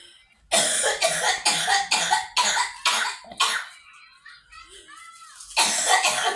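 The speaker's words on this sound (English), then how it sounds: "I've been coughing so bad, it causes my stomach to hurt." A child coughs repeatedly in a quick run of harsh bursts, pauses briefly, then coughs once more, close to the mic.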